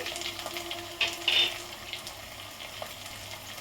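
Spices with salt, turmeric and Kashmiri red chilli roasting in a pan over a medium flame give a close, steady sizzle with brief scraping stir sounds, and no voices.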